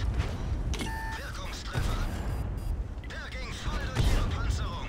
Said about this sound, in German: auch hier die Explosion von dem Panther, wunderschön